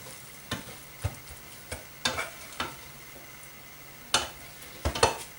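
Onions cook in a soup pot as a spoon stirs them, giving a soft background sizzle broken by sharp, irregular scrapes and knocks against the pot.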